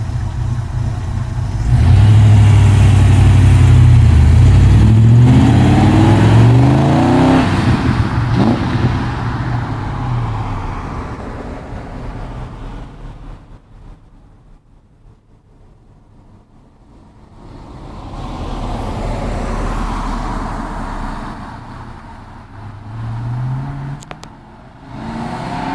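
A 1995 Ford Mustang GT drives past, its exhaust swelling into a loud, deep revving roar up close, fading to near quiet in the distance, then returning with another rising throaty pass.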